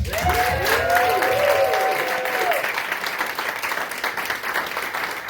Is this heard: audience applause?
yes